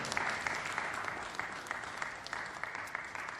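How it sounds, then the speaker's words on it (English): Audience applause closing an academic conference session, with many hands clapping in a steady, fairly quiet roomful of sound and sharper individual claps standing out at regular intervals. "Let's give a round of applause for all of our speakers"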